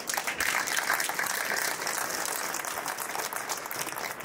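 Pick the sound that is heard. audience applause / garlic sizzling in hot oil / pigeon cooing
audience applause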